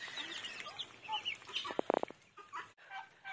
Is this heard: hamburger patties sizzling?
no